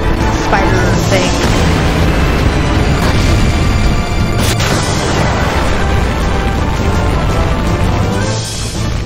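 A fire attack explosion in Final Fantasy VIII, a loud, dense rumbling blast that roars continuously with a few sharper bursts, no talk over it.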